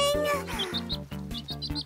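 Cartoon birds in a kids' animated series give short, high chirps in small bursts over a bouncy musical background.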